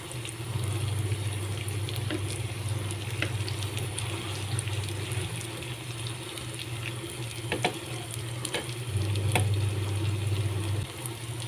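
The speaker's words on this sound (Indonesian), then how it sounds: "Kita goreng bawangnya dulu" Garlic and shallots frying in a pan for an Indonesian taro leaf dish, giving a steady close sizzle that runs without pause, with faint scrapes and clicks now and then.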